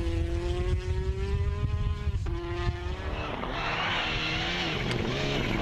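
A Citroën DS3 R5 rally car at the Internationale Jännerrallye races past on a stage, its engine revving hard with a rising, shifting pitch and gear changes, loud and close, then roaring off into broadband road and exhaust noise.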